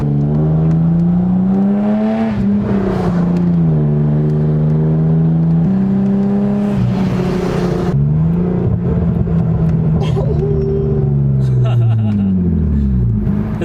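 A BMW E36 325i with a straight-piped exhaust accelerates hard, its loud raspy engine note climbing and falling through gear changes in continuous close sweeps.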